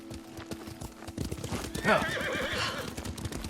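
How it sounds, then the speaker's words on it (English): In the video game Ghost of Tsushima, a horse whinnies loudly over a steady clip-clop of hooves, with a faint low hum underneath. "Good horse."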